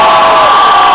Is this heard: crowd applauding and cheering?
yes